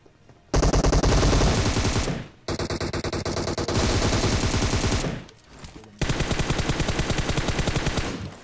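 Sustained automatic gunfire rattles in rapid bursts during a BGMI PUBG Mobile match, loud and close, with short breaks between long volleys.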